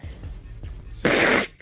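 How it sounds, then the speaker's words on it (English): A single sharp sneeze-like burst, brief and fairly loud, bursts out after a moment of quiet, muffled sounds, heard close up on a phone line. "Was that a sneeze, or do I say bless you?"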